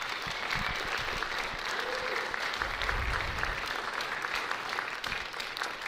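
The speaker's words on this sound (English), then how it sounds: "How about one more round of applause for these amazing students on stage?" Warm, continuous applause from a large audience for students on stage at a school performing arts center concert, dense and steady throughout with a faint crowd murmur underneath.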